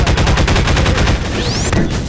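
Rapid automatic gunfire in the video game Garry's Mod, a loud, dense burst of evenly spaced shots rattling for about two seconds, with a whizzing ricochet near the end.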